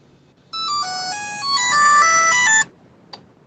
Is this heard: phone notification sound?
yes